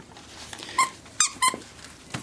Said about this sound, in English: He'll bark, he'll growl.